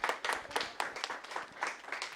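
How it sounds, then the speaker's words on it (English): A small group in a telethon studio gives brief applause: quick, fairly close handclaps with uneven rhythm, fairly quiet, lasting about two seconds. "I think that definitely deserves some studio applause"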